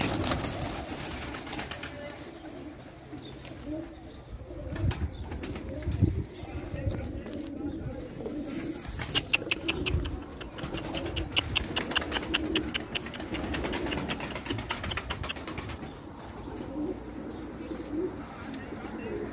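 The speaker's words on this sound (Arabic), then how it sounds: "هاي عنده طير الاليف اسمه ويفر" Soft, repeated cooing of pigeons close by, layered over a busy background with intermittent voices and chirps.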